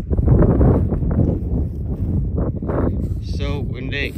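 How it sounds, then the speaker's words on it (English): Heavy, low buffeting wind noise roars across the microphone continuously, with a few higher squeaky sounds near the end. "So windy."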